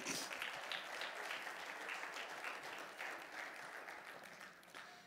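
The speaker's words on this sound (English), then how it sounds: "clap your hands and praise God this morning" A church congregation at a Sunday morning service claps hands together, steady crowd clapping heard at a distance, fairly faint, with a murmur of voices.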